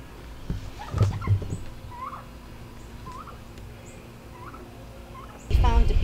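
Backyard turkeys kept alongside chickens gobble in short rattling bursts, several calls spread across the clip, with a louder close burst near the end and faint bird chirps between.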